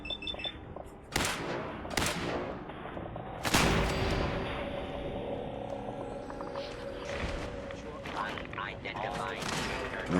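Gunfire blasting a turret in Fallout 4's Nuka-World, several sharp shots in the first few seconds, then a lingering electronic hum and game effects, with a voice talking over it.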